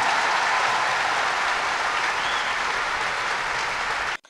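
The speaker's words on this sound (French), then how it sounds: "Applaudissez la croix de Jésus." Crowd applause welcoming a cross of Jesus at a World Youth Day gathering, a dense, steady wash of clapping that holds loud and unbroken for about four seconds before cutting off abruptly.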